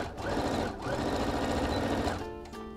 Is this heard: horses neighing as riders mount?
no